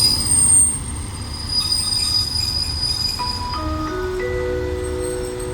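Express train 169 hauling a Daewoo coach pulls into Ban Pong station, its wheels squealing loudly in rising, sustained metallic tones over a low rumble of rolling cars.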